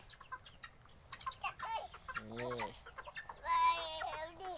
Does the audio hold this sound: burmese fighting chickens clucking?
yes